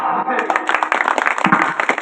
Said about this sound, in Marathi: जरा टाळ्या जरा वाजवा